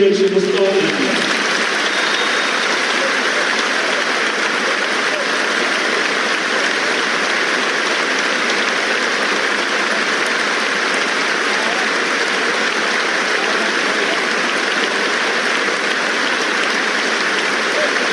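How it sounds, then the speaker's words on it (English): Stadium crowd at Anfield before a Liverpool versus Everton Premier League kick-off, holding a sustained moment of applause for the dead: a steady, dense wash of clapping from many thousands of people that stays level throughout. "will observe either a minute of silence or a moment of applause ahead of kick-off here at Anfield"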